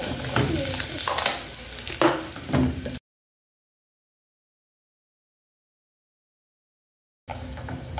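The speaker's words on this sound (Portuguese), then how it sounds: "tá refogando aqui" Rice sautéing with annatto in a pan, a busy crackling sizzle with stirring scrapes for a few seconds, then a gap of silence before the frying sound returns.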